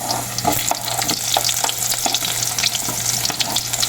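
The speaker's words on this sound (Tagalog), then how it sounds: "lalagay na po yung bawang. Lagay na rin po yung sibuyas." Garlic and onion hiss and crackle steadily in a hot pan as the base for squid adobo, with a few spatula scrapes and stirring clicks scattered through the close, continuous sizzle.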